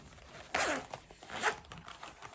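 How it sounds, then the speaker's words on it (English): An Ipsy makeup bag's zipper is pulled open in one quick, close rasping run, followed by a softer, shorter zip and light handling noise in a quiet room. "And when you unzip the bottom,"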